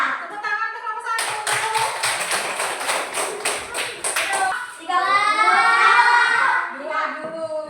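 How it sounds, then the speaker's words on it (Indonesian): Schoolchildren in a classroom clap in a rhythmic unison pattern of sharp, evenly spaced claps, then break into cheering and chatter, with the teacher's voice nearby. "Tepuk tangan untuk kelompok satu."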